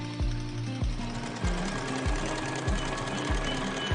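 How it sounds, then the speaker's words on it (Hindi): Treadle-powered sewing machines used for home-based tailoring work, heard as a loud repeating mechanical thump-and-whir cycle about twice per second, close up and alone, with no voices. "देश के कई हिस्सों में सिलाई मशीनों पर काम जारी रहा"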